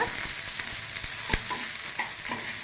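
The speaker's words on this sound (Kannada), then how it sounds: "ಎಲ್ಲ ಸೇರಿಸಿ ಸ್ವಲ್ಪ ಫ್ರೈ ಮಾಡೋಣ" Ridge gourd peel chutney mixture with coriander leaves fries in a pan with a steady, fairly quiet sizzling hiss, broken by a few soft stirring scrapes.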